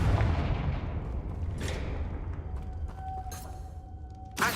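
The Confringo fire spell in Hogwarts Legacy bursts with a loud boom up front that decays into a rumbling tail, followed by sharp crackling hits near the end.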